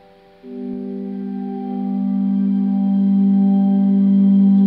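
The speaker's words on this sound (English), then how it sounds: "Get a little shimmer going, because that sound is very popular today." A sustained guitar chord swells in through Arion pedals with shimmering, echoing delay tails, the tone thickening and ringing steadily throughout.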